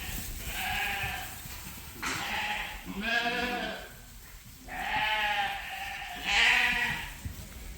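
Sheep bleat in a barn full of ewes, several close, overlapping calls rising and falling in a steady chorus with short gaps between them.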